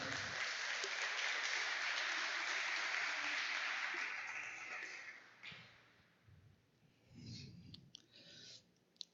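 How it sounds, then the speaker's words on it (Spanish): A church congregation at a Spanish-language Thursday evening service applauds, with fairly soft clapping for about four seconds that fades into quiet room noise and a few stray sounds. "Denle un aplauso al Señor."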